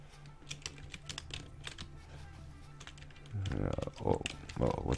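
Rapid clicking from a computer keyboard goes on throughout, close and fairly quiet, and heavier thumping key presses come in toward the end.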